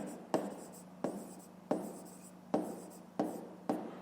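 Pen writing by hand in a Grade 5 maths exercise book, a series of about six distinct scratchy strokes in a steady rhythm, close and fairly quiet, with no talk over it.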